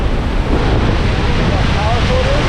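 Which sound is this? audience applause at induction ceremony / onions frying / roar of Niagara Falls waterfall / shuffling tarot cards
roar of Niagara Falls waterfall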